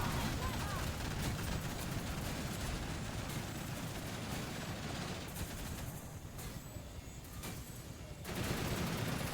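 In the video game Fuse, sustained rapid gunfire is aimed at a helicopter, with dense automatic bursts that run continuously for several seconds and ease briefly before resuming, loud and close.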